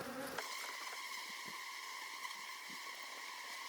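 Honey bees swarm and buzz while being moved out of a water meter box into a new hive, a steady, close, dense drone with a few faint knocks underneath.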